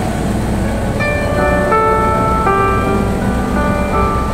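Music plays steadily through JBL speakers with tweeters in a Mitsubishi Montero, sustained tones and chords over a dense low bass, fairly loud and close, with no talking.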